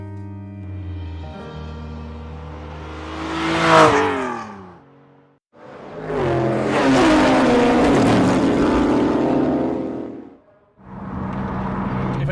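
A Singer customized Porsche 911 revs hard in three long pulls, each rising to a loud, raspy peak and then falling away, with the engine close and dominant and brief gaps between the bursts.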